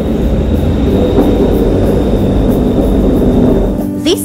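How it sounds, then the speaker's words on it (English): Bangkok's elevated BTS sky train rumbles steadily past with a constant roar, then brakes briefly squeal near the end. "This is BTS, a sky train, the most convenient way of transportation in Bangkok"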